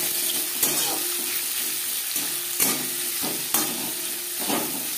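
Chopped onions fry in oil in a wok-style kadai just used for frying fish, giving a steady close sizzle broken by a few sharp spoon-stirring clanks.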